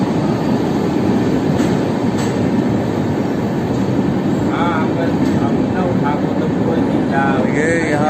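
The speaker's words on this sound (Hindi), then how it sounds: "मुजफ्फरपुर जंक्शन में इन करते हुए आ गई है ट्रेन।" Train pulling into Muzaffarpur Junction, a steady loud rumble of rolling stock with faint wheel squeals and brief tones near the end, heard close on the platform with voices in the background.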